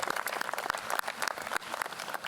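Dense, steady clapping from a crowd at a university president's investiture ceremony, a continuous crackle of many hands applauding together.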